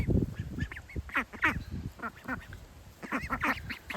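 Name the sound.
ducks quacking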